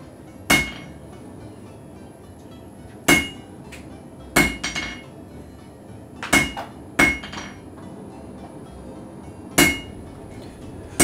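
A hammer strikes a steel wand taper at the forge, squaring up an octagonal section: six sharp, ringing blows spaced irregularly over a faint steady background, close and loud.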